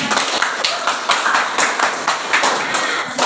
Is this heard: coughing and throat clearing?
no